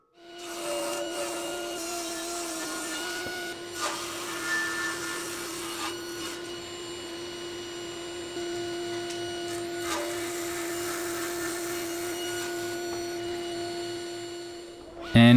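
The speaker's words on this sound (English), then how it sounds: "I find it's easy enough to just cut the final width at the table saw" A table saw rips wood chair parts to final width, a loud steady whine with the blade spinning up, cutting through the stock and winding down near the end.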